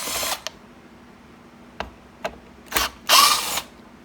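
Ratchet working T25 bolts off the third brake light of a 2021-23 Ford Bronco, close and fairly loud, with short bursts of clicking and a few isolated sharp ticks spaced over several seconds.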